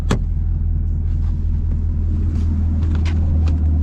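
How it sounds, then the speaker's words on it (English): A 2022 Camaro ZL1 sports car engine with an MBRP aftermarket exhaust revs, rumbling steadily with a deep, throaty low-end drone, loud and close, with a few brief sharper bursts on top. "now let's rev this thing out and see what it sounds like in the back"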